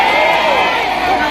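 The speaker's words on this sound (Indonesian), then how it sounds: "Tepuk tangan dulu dong buat panitianya." An audience at an Islamic study gathering applauds and cheers, a dense, loud wash of clapping and shouting voices heard alone for a brief moment.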